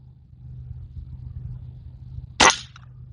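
Airgun fired at a field target: a single sharp, close crack about two-thirds of the way in, following quiet outdoor background.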